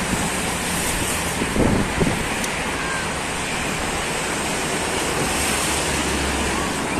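Loud surf of high sea waves rolling in at Stanley Beach in Alexandria, a continuous wash of breaking water with steady wind noise over the microphone and no talking.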